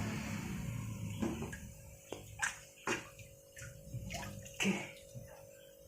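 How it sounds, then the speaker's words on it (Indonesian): Water drains from a large snakehead fish aquarium during cleaning, giving faint gurgles, soft splashes and sloshing bursts at irregular intervals over a low background rush, with a brief spoken word. "sepertinya airnya sudah mulai agak surut"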